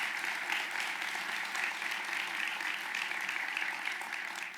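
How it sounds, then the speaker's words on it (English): Audience at a luncheon applauding, a sustained, even burst of many hands clapping in a large room, continuous throughout. "Can we give him a round of applause, please?"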